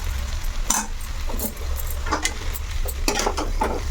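Egg noodles with meal maker soy chunks being stirred in a frying pan, a steady low sizzle broken by repeated scraping strokes of a spoon against the pan, close and alone.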